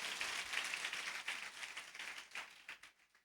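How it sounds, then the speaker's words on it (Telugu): A church congregation claps together in praise during a Telugu worship service, a soft, fairly distant patter of many hands that thins into scattered claps and stops near the end. "దేవుని బిడ్డలందరూ ఒకసారి గట్టిగా చప్పట్లు కొడుతూ దేవుని మహిమపరుద్దాం"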